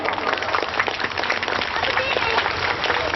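Applause from an audience at a Hindu religious discourse on cows (gau katha), a dense continuous patter of many hands clapping that lasts the whole moment, with some voices mixed in.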